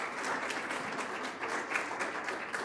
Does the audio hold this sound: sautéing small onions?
no